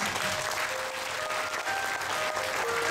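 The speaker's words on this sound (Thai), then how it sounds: "จะปรบมือให้โรสเสรี" A school crowd applauds for Rose Seri school, a steady, dense wash of clapping from many hands that carries on without a break, with faint tonal voices or whistles running through it.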